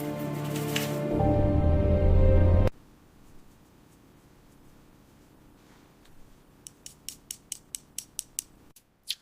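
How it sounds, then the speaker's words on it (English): Classic motorcycle restoration work: a loud grinding, whirring mechanical stretch, then near quiet with faint handling noises, ending in a quick series of sharp ratcheting clicks while a gear is tightened. Close and with no voices. "Tightening this gear now."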